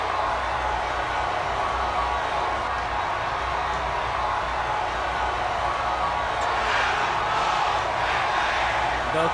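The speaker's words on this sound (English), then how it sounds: "The crowd is hyped for it." Arena crowd noise from the wrestling game WWE 2K23, a steady roar of many voices that holds at an even level throughout and swells slightly with a few brighter cheers toward the end.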